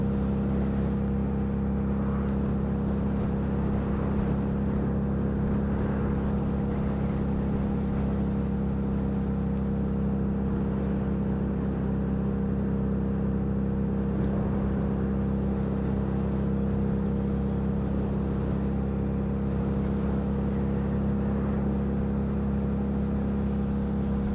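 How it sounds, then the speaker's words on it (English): Lexmoto Vendetta 250cc motorcycle being ridden at a steady pace, a constant close engine drone with road and wind rush throughout, no shifts or pauses. "getting back to this bike, it should be good for 85-ish miles an hour"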